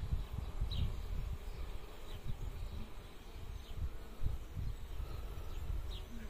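Honeybees hum faintly around an open hive while a queen bee is being marked with paint, with soft scattered buzzes drifting close and away over a low background rumble.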